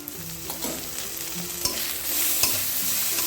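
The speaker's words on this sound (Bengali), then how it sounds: "মশলাটাকে যতক্ষণ না পর্যন্ত তেল ছাড়বে ততক্ষণ এটাকে আমরা কষিয়ে নেবো" A masala of chopped tomato, ginger paste, garlic and chili paste frying in oil for crab curry, a continuous close sizzle with spatula scrapes and a few sharp taps against the pan, growing slightly louder toward the end.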